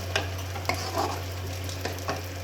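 Shahi chicken daal fries in a kadai as a spoon stirs it in a few soft, scraping strokes over a constant low electrical hum, with a faint sizzle underneath and no voices.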